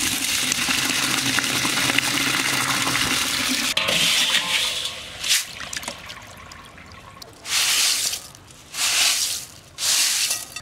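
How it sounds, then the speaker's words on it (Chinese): Freshly harvested red adzuki beans are washed in water, first with continuous sloshing and rinsing, then with several separate bursts of splashing and swirling close by. "红小豆啊，赶紧洗一下。"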